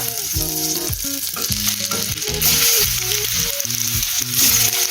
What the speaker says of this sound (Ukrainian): На маслі будемо підсмажувати грушу.